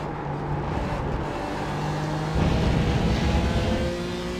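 A race car engine drones steadily at Road America during a two-hour IMSA Michelin Pilot Challenge race, heard from inside the car as a continuous mid-level roar with a slight rise in intensity partway through.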